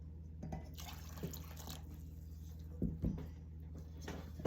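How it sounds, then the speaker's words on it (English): Boiling water is poured into a container of plastic pellets, heard as faint trickling and a few soft drips and splashes over a low steady hum, with no talking. "you add the boiling water in"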